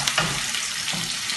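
Onions and peppers sauté in a pan for menemen, giving a soft, quiet sizzle with faint stirring scrapes over a brief moment.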